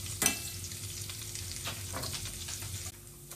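Garlic frying in a pan gives off a steady low sizzle, with a utensil stirring and scraping now and then close by and no voices.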